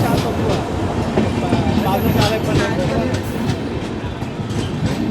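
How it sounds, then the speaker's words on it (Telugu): Tirupati superfast express train passing through a railway station, a steady loud rumble of wheels and carriages with faint clickety-clack running throughout, voices murmuring underneath. "తిరుపతి సూపర్ ఫాస్ట్ అన్న."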